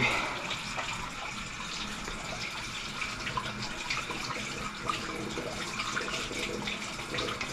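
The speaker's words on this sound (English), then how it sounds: "Wash my hands real quick." Hands are washed under a running kitchen tap, a steady close stream of water with faint splashing and rubbing that stays even for several seconds without talk.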